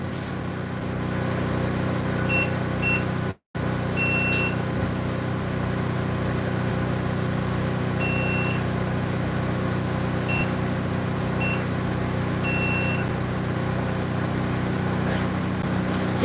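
Restaurant pager beeper going off at a food truck, sounding in short bursts of high electronic beeps against a steady engine-like hum.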